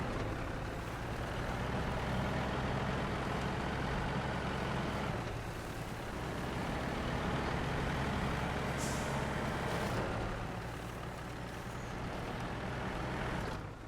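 A heavy truck engine drones steadily in the SnowRunner video game, rumbling loud and continuous as the vehicle strains through a rut, with a brief hiss of air partway through.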